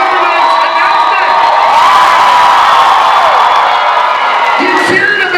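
A large audience at a Halloween Horror Nights panel for Hollywood at Midsummer Scream cheers loudly and continuously, with whoops and shouts blending into a sustained roar that eases near the end.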